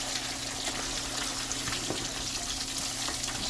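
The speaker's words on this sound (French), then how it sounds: "Lorsque l'huile est bien chaude, ça facilite vraiment le poisson." Fish frying in a pan of well-heated oil, a steady fizzing sizzle with faint crackles held at an even level throughout, with no voices present.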